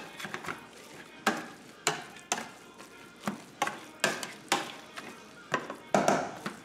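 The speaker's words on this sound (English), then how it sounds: "And I mash them by hand." Garlic potatoes are mashed by hand with an old handheld masher, giving a steady series of soft, close thumps and squelches at an even rhythm, with no talking.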